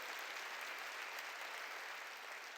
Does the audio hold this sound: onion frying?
no